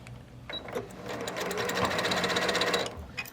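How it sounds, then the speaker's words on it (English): A sewing machine stitching a quilt block, a fast steady whirring run of needle strokes lasting a few seconds, close and alone. "So now when I sew this in,"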